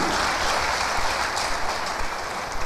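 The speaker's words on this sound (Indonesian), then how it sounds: "Kasih tepuk tangan dulu untuk Bapak Yahweh." Sustained applause from a large church audience fills the room, a dense even wash of many hands clapping without pause throughout.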